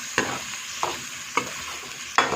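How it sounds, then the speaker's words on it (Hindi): Chopped onions stirred and fried in a pan with half-cooked potatoes, giving four sharp scrape-and-sizzle strokes at a steady pace over a continuous soft frying hiss, close and alone. "अब हमने डाल दिए हैं इसमें प्याज मैंने 2 अदद काटे थे, चॉप कर लिए थे, तो इसको भी हम इसमें डाल के पका लेंगे।"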